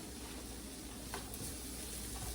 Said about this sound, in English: Peppers and onions sauteed.